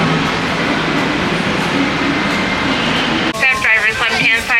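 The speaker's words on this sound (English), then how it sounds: "Here comes the tram." A Disneyland tram pulls in with steady rumbling rail-like noise and wheel clatter, then a brighter whining and chiming as it arrives, people talking nearby.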